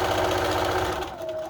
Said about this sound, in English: then you're just gonna continue sewing to the end of the bias tape